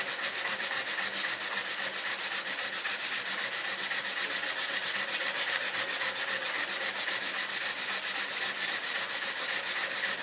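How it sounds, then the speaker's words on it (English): Cloth-backed abrasive rubs along a shotgun barrel in a steady polishing motion, a constant close, even scratching hiss with quick repeated strokes and no pauses or speech. "we just place the cloth back abrasive right on the barrel and then work it in a polishing motion"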